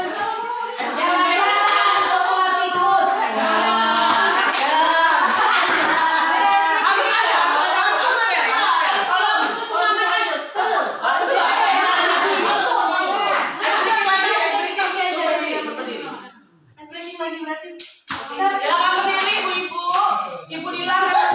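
A group doing a rhythmic spirit-clap ice-breaker in an Indonesian teachers' session, with patterned clapping and loud mixed voices chanting and talking throughout and a brief lull near the end.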